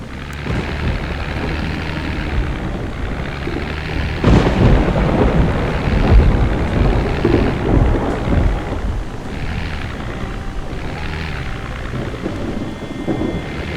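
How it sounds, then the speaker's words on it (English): A thunderstorm in the video game Project Zomboid rolls on with steady heavy rain and deep rumbling thunder, a loud crack swelling around the middle before easing back to a continuous downpour. "every time it does a thunderclap"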